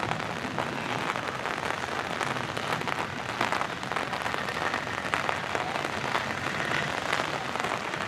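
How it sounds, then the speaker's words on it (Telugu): Heavy rain pours down steadily at Bekal Beach, a dense, continuous hiss close by with no voices or breaks. "రెయిన్ మాత్రం బాగా పడుతుంది"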